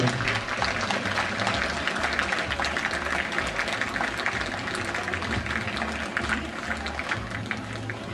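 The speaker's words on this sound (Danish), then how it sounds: "Vi klapper jo." An audience at an open town festival in Vester Hornum claps steadily and densely for the whole stretch, a broad wash of applause at moderate distance with no clear pauses.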